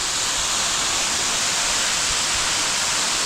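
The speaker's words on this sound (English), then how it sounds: "Just going for a little walk past that left waterfall." A jungle waterfall in Bali roars as a steady, dense wash of falling water, continuous and fairly loud throughout with no pauses or voices.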